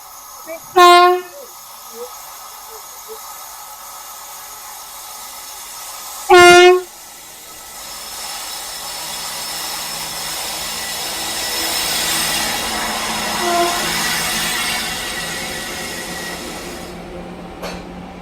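A passenger train with new LHB coaches on the Trichy to Trivandrum run sounds two loud horn blasts a few seconds apart, then rolls along with a steady rumble and clatter that swells and fades.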